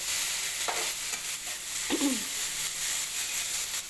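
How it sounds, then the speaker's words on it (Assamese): Small fish being stirred with onions in a hot wok, soft scraping strokes of a spatula over a steady sizzling hiss, a few distinct stirs close by with no talking. "মাছখিনি মই কেৰাহীটোত ঢালি দিম। দি পেলাই ভালকৈ লৰাই পেলাই গোটেই পিঁয়াজৰ লগত মিলাই ভালকৈ লৰাই"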